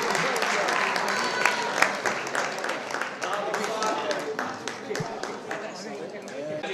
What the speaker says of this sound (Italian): Ecco, un applauso Rivi ragazzi.